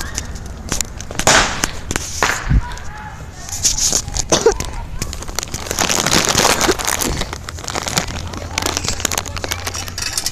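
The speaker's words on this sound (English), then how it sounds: "Are you done blasting off the pop bottle rockets?" Small pop-bottle rockets launch outdoors with sharp, scattered bangs and crackles, the strongest burst around the two-and-a-half-second mark, over a steady hiss of outdoor noise, with people talking at moments.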